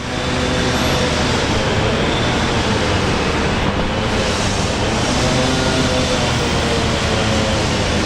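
An airliner taking off from runway 19 left at Brisbane Airport, a loud, steady, broadband engine roar that holds without a break throughout.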